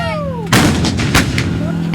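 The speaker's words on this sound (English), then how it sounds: "These women are firing howitzers" A howitzer fires with one heavy, booming blast that rolls out into a long rumbling echo, loud and fairly close, following a short stretch of steady tonal hum.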